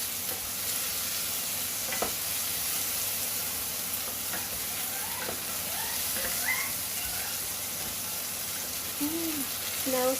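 Mussels with tomato, ginger and onion sauté quietly in a pan, a soft steady sizzle with occasional stirring clicks, while faint background chatter drifts in at a distance.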